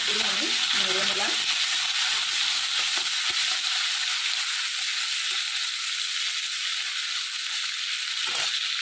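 Onions fry in a pan with a loud, continuous sizzle, stirred now and then with scraping clicks; a voice speaks briefly at the start.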